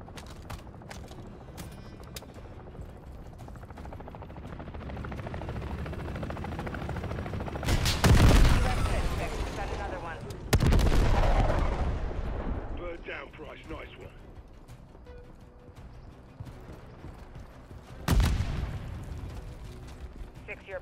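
Gunfire and heavy explosions from attack helicopters in the Call of Duty: Modern Warfare 3 campaign, with loud booming blasts around the middle and again near the end over a steady rumble of battle, while a voice talks throughout.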